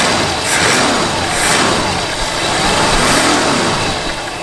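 An old Mercury Cougar barn find, brought back after about 40 years, runs close to the microphone with a loud, rough, steady engine note that swells and eases slightly in gentle surges, with no talking over it.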